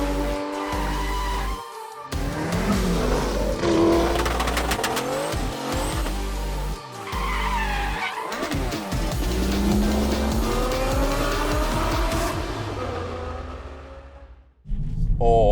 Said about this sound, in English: For the sake of the video, I've turned on active sound design.